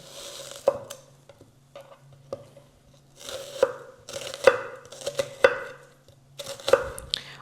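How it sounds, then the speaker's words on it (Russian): Knife finely dicing onion into small cubes on a cutting board for a meat pie filling: sharp, irregular chopping taps in quick bursts separated by short pauses, close and crisp over a faint steady hum. "Для начинки мы будем мелко нарезать лук мелкими такими кубиками"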